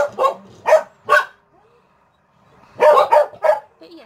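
Dogs bark in two bursts: three sharp barks, a pause of quiet, then several quick barks close together, ending in a short whine. The barking is moderately near and clear, with no speech.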